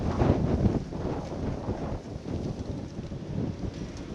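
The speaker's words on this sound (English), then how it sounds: "I'm tired of standing out in this wind" Cold wind blows hard across a farm, buffeting the microphone with a loud, continuous roar and gusty rumble, with no talking.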